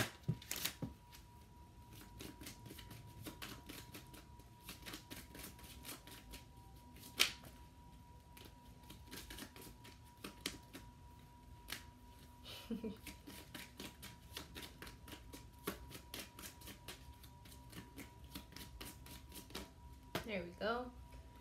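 A Zodiac Oracle deck of cards is shuffled steadily in rapid riffling patter with crisp card snaps, close by, with occasional brief murmurs of a voice.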